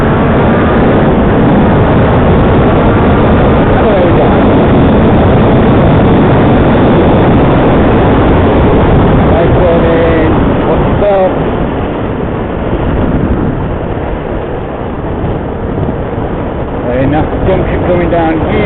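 A motorcycle engine runs steadily while the bike is ridden on a sunny October outing. The engine and rush are loud, dense and continuous close up, with muffled voices under the noise.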